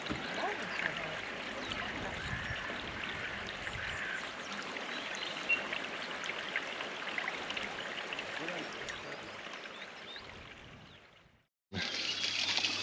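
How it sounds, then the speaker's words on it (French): A waterfall cascade pours into a basin through a wooden tube, giving a steady broadband rushing and splashing that holds at an even level for about eleven seconds, cuts out briefly, then resumes. "la fameuse cascade"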